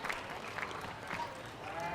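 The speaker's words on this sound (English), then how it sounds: "can we please have another big round of applause for Chris Drews, our judge for this week?" Faint applause from a crowd at a school livestock show's cattle event, a soft, distant patter of clapping lasting a couple of seconds.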